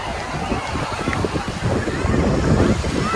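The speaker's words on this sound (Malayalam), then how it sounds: "കടലിന് തൊട്ടടുത്തായിട്ട് തിരമാല വന്ന് അടിക്കുന്നത്" Sea waves washing onto the shore right beside a seaside temple at Thiruchendur, a continuous close rumbling surge with wind noise and a swell building toward the end.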